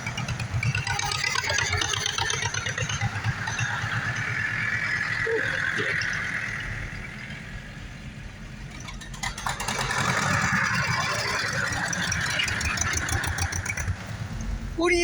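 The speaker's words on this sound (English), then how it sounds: "It's a tractor parade, Luna." Several tractors idle together at a country tractor parade, a steady low rumbling drone that holds throughout, with a brief lull midway and faint voices mixed in.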